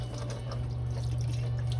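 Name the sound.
tap water running for rinsing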